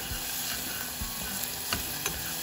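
Onions sautéing in a pan for a sundubu jjigae, a steady soft sizzle with occasional clicks and scrapes of stirring, close and continuous with no talking.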